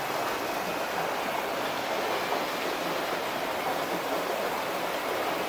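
Water flowing down into a stream at the bottom of the terraced rice paddies of Tegalalang, Bali, a steady broadband rush that stays constant throughout with no voices.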